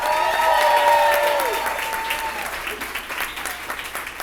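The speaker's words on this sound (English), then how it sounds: "So how about that round of applause for Joey?" Applause from wedding guests during the toasts, a steady, full round of clapping that gradually thins out, with a faint voice or tone underneath.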